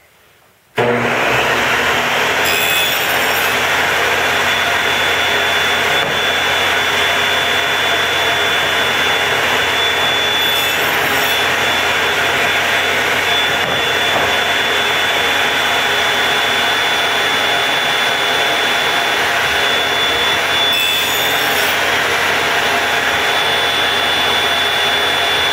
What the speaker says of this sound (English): I finished cutting all of the 1/4 inch deep notches on this side.